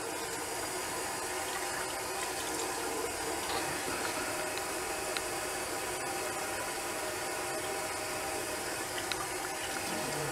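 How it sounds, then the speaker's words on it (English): Tap water runs steadily into a sink for a cold rinse after a wet shave, a continuous close hiss and splash with no talking. "We're going to cold water rinse."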